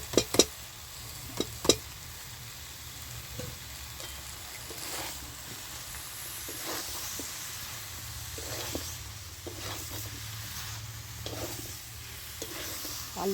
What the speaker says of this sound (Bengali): আলু আর হেঁচুরটা দিয়ে ভালো করে কষিয়ে নিতে হবে